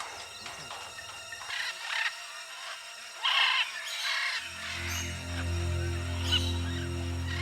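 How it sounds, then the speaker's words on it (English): Exotic birds left unattended on a ranch near West Palm Beach, Florida, among them yellow-headed Amazon parrots and macaws, let out scattered squawks and calls, while a low mechanical hum rises in the second half. "Hundreds of exotic birds had been left unattended, everything from yellow-headed Amazon parrots to rare, brilliantly colored macaws."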